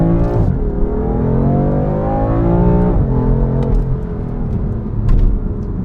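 A 2016 BMW M3 engine in Sport Plus mode accelerates loudly up through the revs from inside the car, with two upshifts that drop the pitch and then build again.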